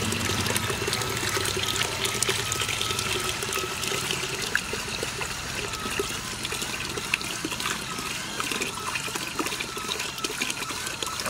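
Water from a small 150-watt solar pump pours steadily into a bucket, a continuous close splashing trickle with no pauses.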